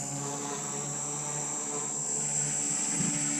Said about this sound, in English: the helicopter's holding pretty good. Drifting a little bit from the wind.